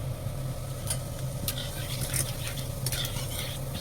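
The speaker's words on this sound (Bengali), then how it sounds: "তেল গরম হয়ে গেছে, জিরে ফোড়ন দিচ্ছি একটু" Cumin seeds sizzle in hot oil for tempering a mushroom and potato dish, a steady soft crackle with a few sharp clinks of a spoon against the pan, no voices.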